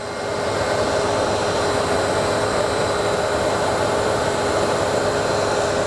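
Industrial pump running at a non-drive-end bearing during a vibration measurement route, giving a loud, steady broadband whir with a constant hum, unchanging throughout and with no talk.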